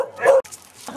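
A dog at a dog shelter in Nanjing, China, gives a single sharp yipping bark up close, followed by a brief quieter second sound, alone without talk.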